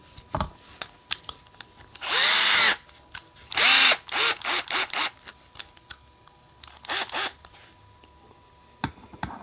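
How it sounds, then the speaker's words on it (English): An electric drill spinning a 3D printer filament spool whirs in several bursts, two long spins followed by shorter pulses, close and loud, with quiet clicks and handling sounds between. "now take my drill motor"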